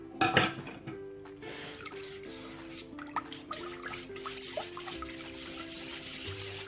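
Cake topping mixture for a milk cake is mixed in a bowl, giving soft scraping and clinking of a utensil against the bowl, close and steady, with a louder knock near the start.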